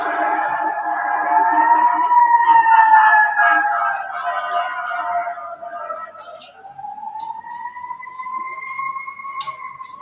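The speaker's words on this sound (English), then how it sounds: "you guys hear them siren?" Emergency vehicle siren wailing outdoors, a steady rising and falling tone that carries loudly through the first half, then continues slightly softer and steadier toward the end.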